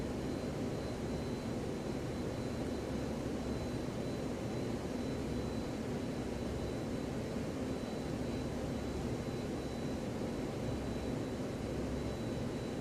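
An F-14 fighter's jet engines roar steadily at military power during a climb in a flight simulator game, a dense continuous broadband rumble that holds level throughout with no voices.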